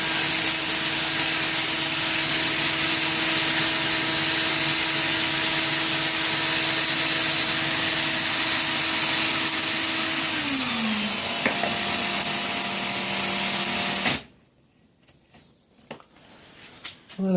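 A motorized machine winding 26/36 gauge Clapton wire hums loudly and steadily, its pitch dropping near the end before it cuts out, leaving near silence with faint handling sounds.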